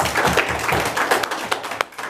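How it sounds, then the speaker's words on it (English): A roomful of people at a school district meeting claps for a group of students, scattered and uneven hand claps mixed with murmuring voices, fairly close and brief. "Clap for these kids, please."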